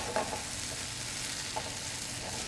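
Beef browning in oil in a pan, a steady low sizzle with faint stirring scrapes and a few soft clicks of utensil, close and continuous with no talking.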